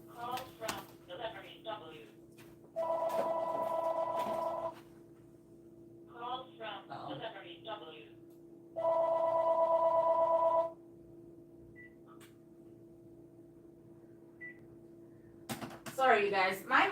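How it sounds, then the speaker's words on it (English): A mom's phone rings with repeated spam calls, two long loud electronic ring bursts with short clicks and handling sounds between them, indoors at a live vintage sale. "My mom's phone, I'm telling you, she gets so many spam calls"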